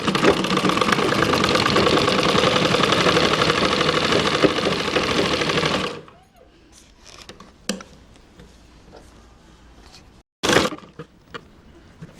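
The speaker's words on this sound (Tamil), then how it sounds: "இப்போ இந்த மார்க்லேயே அடிச்சுக்கணும்" Sewing machine stitching a blouse along a marked line, a loud continuous motor drone running steadily for about six seconds before stopping abruptly, leaving faint handling noises and a brief burst later.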